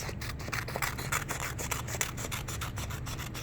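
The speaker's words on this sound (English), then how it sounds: "I'm going to cut this way, cut 4 strips." Paper strips are cut with scissors in a steady run of close, dry snips and rubbing, with no talk.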